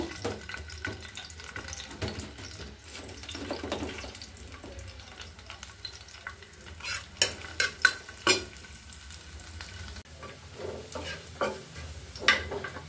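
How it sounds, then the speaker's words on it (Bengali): Chopped garlic and red chili are tempered in hot oil on a stove, with a soft sizzle broken by sharp stirring and clinking sounds close by and no talk. "এই চুলাতে বাগার বসেছি। মরিচটা হালকা লাল হয়েছে, এখন আমি রসুন কুচি দিয়ে দিব।"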